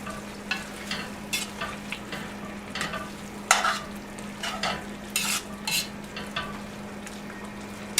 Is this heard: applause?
no